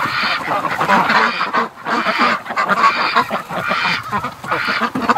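A flock of ducks quacks loudly and continuously, many overlapping calls close by with no pauses.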